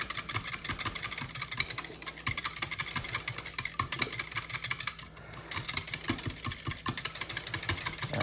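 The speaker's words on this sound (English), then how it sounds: "So let's just whisk this up real good here." A whisk beats a homemade Southern chocolate pie filling in a bowl with quick, regular, close clicking strokes that pause briefly midway and then resume, with no talking.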